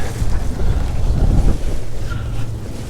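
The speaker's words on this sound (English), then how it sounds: "This wind is blowing." Wind buffets the microphone outdoors during a trailer brake install, a loud, steady low rumble that fills the whole clip, with no speech.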